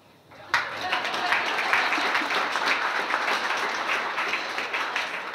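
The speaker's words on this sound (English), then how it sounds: "You can applaud." An audience applauds at an annual chamber of commerce dinner, clapping starting abruptly and holding steady at moderate loudness, heard from across the room.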